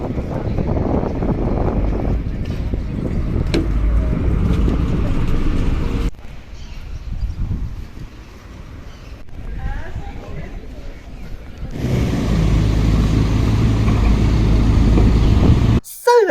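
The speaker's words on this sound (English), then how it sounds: "From here I then get on an express boat which takes me down to Punta Saboni." Express boat crossing the Venice lagoon between islands, a steady low engine rumble and water rush that drops briefly mid-way before returning loud and close, with a voice speaking over parts of it.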